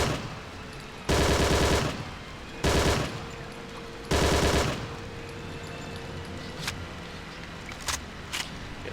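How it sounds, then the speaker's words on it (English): Bursts of automatic gunfire aimed at a pillbox in the war shooter Hidden and Dangerous 2, three loud sustained volleys separated by pauses, followed by a few sharp single shots over low background ambience. "a few speculative shots into that pillbox"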